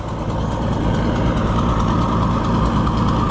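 A heavy tractor engine, a Super 77, idles steadily close by, a low, rough, constant chugging with no changes in speed.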